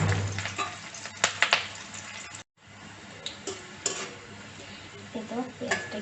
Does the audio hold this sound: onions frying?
yes